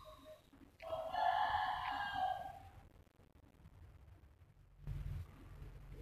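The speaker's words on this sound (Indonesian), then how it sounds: "Tuh, jago aku sedang berkokok terus." A rooster crows once nearby, a loud, drawn-out call lasting about a second and a half, followed by quiet room noise and a low thump.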